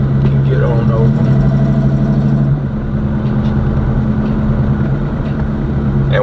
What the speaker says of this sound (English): This car is so slow, but it sounds so good.